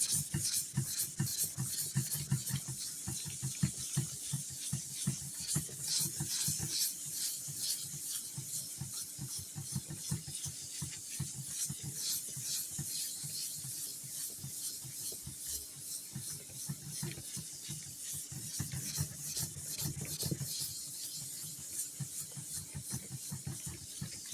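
Close-up rasping strokes of sandpaper rubbed by hand over a wooden guitar body, repeated in a steady back-and-forth rhythm for a long stretch.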